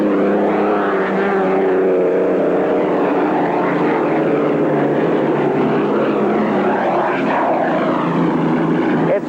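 Unlimited hydroplane racing boats at the start of a heat at a 1982 championship in Texas, their engines producing a loud, continuous roar that rises and falls in pitch as the boats pass, with no clear talk.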